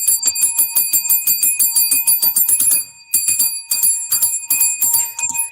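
A bright bell notification chime for a chat emoji rings in rapid repeated strikes, sustained ringing tones over a quick rhythmic pattern, a brief pause near the middle before the chiming resumes, loud and close with no talk.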